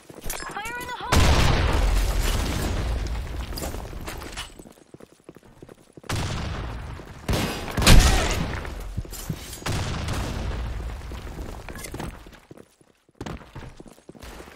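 A video game firefight with a grenade blast: sharp bursts of gunfire and booming explosions in separate loud waves with quiet gaps, under occasional voices.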